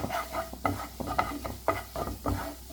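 Cornflour being stirred and toasted in melted butter in a pan, with a steady soft sizzle under repeated scraping strokes of a spoon, close and fairly loud, no talking.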